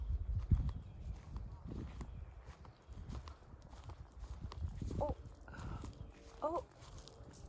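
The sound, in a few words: cows walking past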